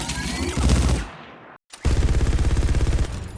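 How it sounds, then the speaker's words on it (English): Shion's secondary fire in the Overwatch video game: a loud, rapid burst of heavy automatic gunfire, a brief silent gap, then another steady stream of fast rhythmic shots that fades at the end. "whenever she actually shoots her secondary fire, the sound effect for it resembles the one of when Mauga is shooting"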